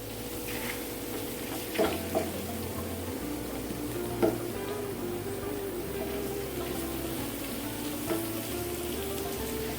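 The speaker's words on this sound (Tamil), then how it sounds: "வெங்காயம்லாம் வந்து நல்லா ஃப்ரை ஆயிடுச்சு" Onions fry in a pan for a pizza sauce, a steady close sizzle with an occasional soft knock of a stirring utensil and no voices.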